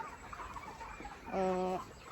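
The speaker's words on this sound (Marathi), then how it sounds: "दीड महिन्याच्या कोंबड्या आहेत आता या" Month-and-a-half-old broiler chickens cluck softly amid a busy flock murmur in a poultry shed, with one louder, sustained call standing out near the end.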